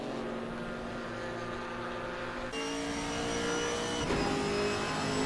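A Porsche GT4 race car engine drones loudly in the Assetto Corsa sim at Barcelona-Catalunya, holding a steady tone before shifting up in pitch twice as it accelerates through a chicane.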